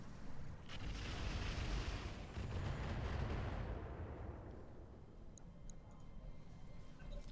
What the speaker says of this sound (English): Dervish just fired 56 missiles at us